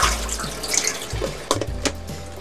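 Tap water splashes into a sink while home-grown basil and vegetables are rinsed, a close continuous gush broken by a few clunks and handling knocks.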